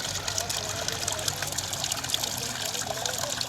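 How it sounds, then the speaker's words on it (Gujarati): At a potter's workplace, water is poured into a clay pot, making a steady close trickle and splash that runs the whole time at moderate loudness. "એટલે માટલામાં પાણી ભરવાનું"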